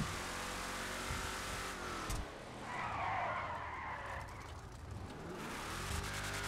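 A Desert Raider truck engine revs hard in Grand Theft Auto, with tires skidding and squealing through the middle, loud and continuous with no voices.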